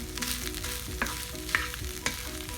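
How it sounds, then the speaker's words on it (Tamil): Coconut rice being stirred in a hot pan, a soft sizzle broken by three sharp utensil scrapes or clinks at regular intervals; no voices. "நல்லா கிளறி விட்டு 2 நிமிஷம் வச்சுருந்து ஆஃப் பண்ணிடலாம்"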